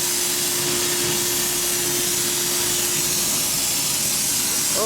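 Media blaster cleaning rust off a copper-plated part from a 1952 Harley-Davidson panhead four-speed transmission, a loud continuous hissing roar of abrasive and air that holds steady and unbroken throughout.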